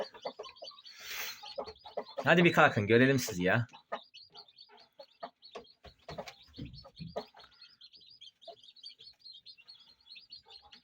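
Chickens and chicks cluck and peep in short bursts, with a louder flurry early on, while a person talks nearby.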